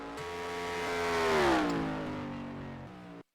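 A race car in a racing video game on the Bahrain circuit sweeps through the final corners, its engine whine rising in pitch to a peak, then dropping away as it passes, before cutting off abruptly.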